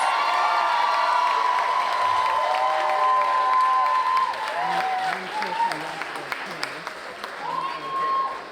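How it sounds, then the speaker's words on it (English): Sustained audience applause mixed with cheers and a few high whoops fills a hall at a nursing pinning ceremony honoring an accelerated cohort, dense and steady before thinning slightly toward the end. "let's have an applause for all"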